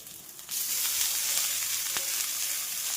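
Bathua greens dropped into hot oil with garlic, green chilli and lightly fried brinjal, bursting into a loud, steady close sizzle after a quieter start, with a brief clatter partway through.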